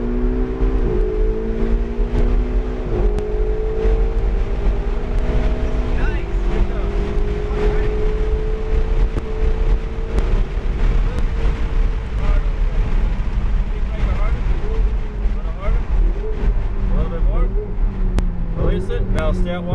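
A supercar engine at a race track roars continuously, the pitch rising and falling through acceleration under an instructor's coaching voice, with wind buffeting the microphone throughout.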